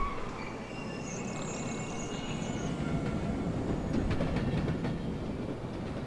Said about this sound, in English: it sounds like a train's coming